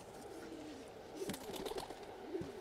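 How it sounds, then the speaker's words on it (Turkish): Pigeons coo softly inside a coop, a few low murmuring calls over a quiet background. "Hepsi aynı kümesin kuşları."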